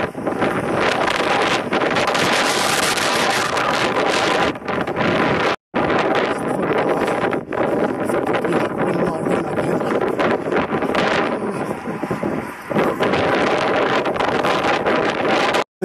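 Wind buffeting the microphone during an uphill run, a loud continuous roar with brief drops, no voices heard.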